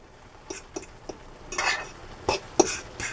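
Taco-flavored Mexican-style rice is stirred in a pan, with a few soft scraping strokes and light clinks of a utensil against the metal, growing busier toward the end, with no talking.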